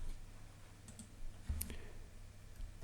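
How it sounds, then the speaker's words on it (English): A single sharp computer mouse click while working in an Excel spreadsheet, heard once near the middle of a quiet, close-up stretch with no talking. "I'm just going to click on it."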